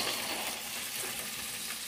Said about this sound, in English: Sauteing some onions to go with this.